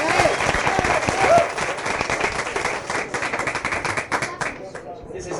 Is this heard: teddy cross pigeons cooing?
no